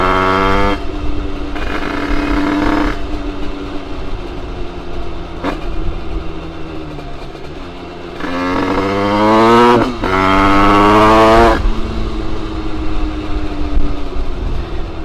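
A motorcycle running a new 86cc top-end aluminium engine during break-in, revving up and down loudly and close by in rising and falling surges, with sharper higher-pitched revs near the middle and no talking.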